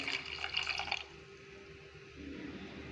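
Tamarind water is poured into ground coconut curry paste, giving about a second of close, splashy liquid trickling before it drops away to a quiet kitchen hum.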